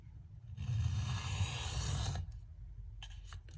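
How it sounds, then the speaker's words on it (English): A Case Mid Folding Hunter pocket knife blade is drawn across a sharpening stone in one long, steady scraping stroke lasting under two seconds, followed by a few faint short scrapes, close and fairly quiet with no talk. "We're going to sharpen a knife."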